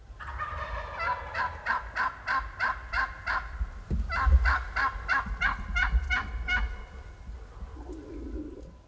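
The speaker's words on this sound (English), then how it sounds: "With a hen right outside our blind and 2 big gobblers behind us" Wild turkeys calling near a hunting blind, a hen close by and two big gobblers behind: repeated loud rattling gobbles in two long bursts, with a soft rustle and a faint thump between them.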